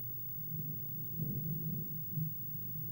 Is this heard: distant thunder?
yes